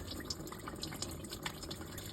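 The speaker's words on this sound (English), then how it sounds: "drain out whatever coolant's left in here" Thin trickle and intermittent drips of the last bit of coolant draining from the radiator of a 2006 Toyota Corolla, faint and close, with a steady background hiss and no talking.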